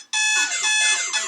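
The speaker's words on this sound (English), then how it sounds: "That is the alarm this time." A phone plays an alarm tone during a quiz, a loud, continuous warbling pattern that repeats in quick pulses and fills the whole moment with no voices.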